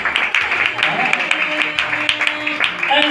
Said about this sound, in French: Je pense que vous allez applaudir pour ça.